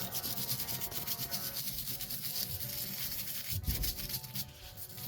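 A metal wire brush scrubs rust off a gun in steady, rapid back-and-forth strokes, producing a close, quiet raspy scraping with no speech.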